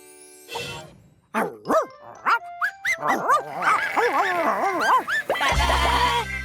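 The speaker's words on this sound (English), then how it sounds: "Sheepdog." A cartoon sheepdog in Alphablocks gives a run of loud, bouncy barks and yelps, one after another, over a light musical background.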